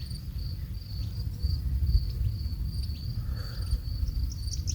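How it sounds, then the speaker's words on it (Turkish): Scout honey bees gather at a bucket swarm trap in a shaded mountain spot, with a steady insect drone and a thin high whine holding on without a break for the whole stretch, and no voices. "Bakın bu şekilde keşifçi arılar tuzağımızı bulmuş."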